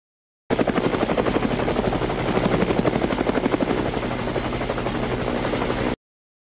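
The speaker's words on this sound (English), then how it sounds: "Take helicopter number uno." A helicopter's rotor thumps steadily and loudly at close range, a continuous rapid chopping drone with no other sounds.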